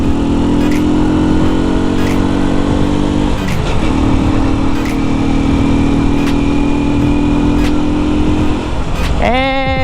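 A Rusi Surf 125cc motorcycle engine drones steadily, close and loud, dipping briefly partway through before revving sharply upward at the end as it accelerates.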